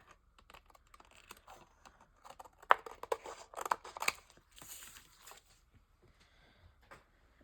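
Scissors cut paper around a figure for a craft page, a close series of soft snips and paper rustles that cluster in the middle, quiet with no talk.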